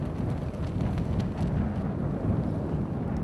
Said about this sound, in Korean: 바람 소리가 더 거칠어진다